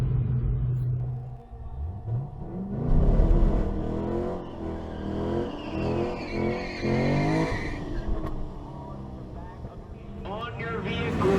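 A Chevrolet SS sedan makes a drag racing pass at Atlanta Dragway, its engine rumbling and its tires squealing as it launches and accelerates. People talk over much of it.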